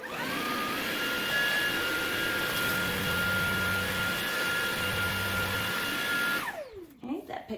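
A Levoit cordless vacuum runs steadily on a hard floor, sucking up crushed goldfish crackers with a loud, constant motor whine, then spins down and cuts off near the end.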